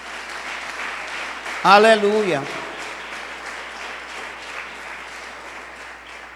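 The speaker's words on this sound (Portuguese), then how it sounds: "Aplauda Jesus Cristo." A church congregation applauds with a steady wash of clapping that continues throughout, while a voice calls out briefly over it.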